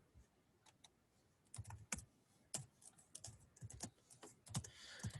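Computer keyboard being typed on to enter a calculation into Desmos: scattered, quick, light key clicks in irregular bursts, close and fairly quiet, with no talk.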